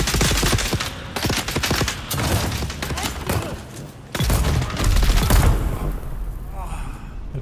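Rapid, loud gunfire in the video game Dune Awakening, sustained bursts of shots with booming impacts filling the whole stretch, with a voice talking over the shooting.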